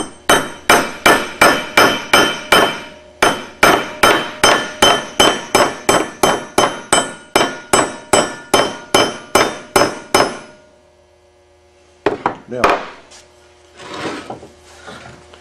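Steel chisel hammered into the split edge of an aluminum nose fork bearing on a Grumman aircraft: a long run of sharp, evenly paced metallic strikes, close and loud, then a short pause and a few more scattered blows.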